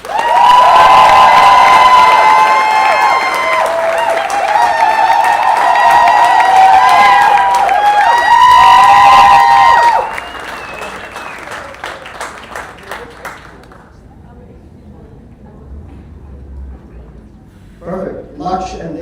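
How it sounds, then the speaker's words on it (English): Wedding reception guests applaud and cheer the couple loudly, with whoops and shouting voices over dense clapping for about ten seconds before the crowd noise fades to scattered chatter and a few late claps. "Let's give one last huge round of applause to the couple."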